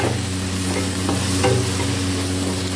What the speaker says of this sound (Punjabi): ਆਪਾਂ ਇਹਦੇ ਵਿੱਚ ਹਲਦੀ ਥੋੜੀ ਜਿਹੀ ਪਾਵਾਂਗੇ ਰੈੱਡ ਮਿਰਚ ਇਹਨੂੰ ਕਰ ਦਿੰਦੇ ਆਪਾਂ ਮਿਕਸ